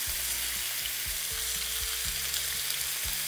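Meat patties (pljeskavice) fry in a pan with a steady, dense crackling sizzle close up, and soft music plays underneath with no talking.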